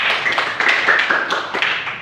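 A classroom group of students claps briefly on cue, a quick burst of close, fairly loud hand claps that runs steadily and then tapers slightly.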